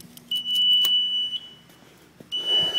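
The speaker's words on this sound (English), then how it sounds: "the alarm is saying there's an issue with the fire alarm sensors" Fire alarm panel beeping over a sensor fault: a high, steady electronic tone sounding in two long stretches with a short break between, close and clear, plus some faint clatter in the background.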